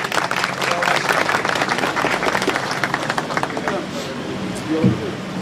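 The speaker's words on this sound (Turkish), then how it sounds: "Alkışlarınızla buyurun." A crowd at the opening of a football club's store in Kütahya claps in loud, dense applause that gradually thins out, with voices mixed in.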